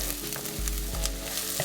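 Onions frying in a pan with leftover curry residue for a pumpkin soup, a steady close sizzle with a few soft clinks of stirring, no talking.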